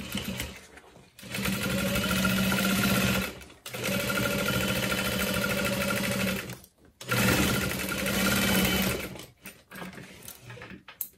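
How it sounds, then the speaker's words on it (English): A sewing machine stitches along the stabilizer of a satchel bag in three steady, loud bursts of fast motor whir and needle hum, separated by brief pauses. "only sewing along the length of my stabilizer, not sewing the length of my bottom panel, just the length of my stabilizer"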